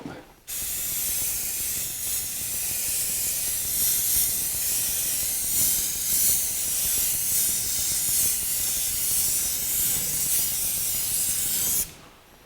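Spray gun laying down the third and final coat of paint inside the fender well of a 1949 Chevrolet gasser, one steady close hiss running almost twelve seconds with sharp start and stop.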